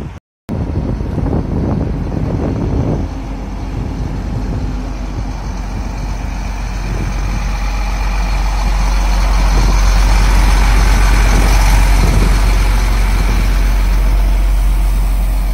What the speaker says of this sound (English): So what that truck is doing is pouring the MC30 priming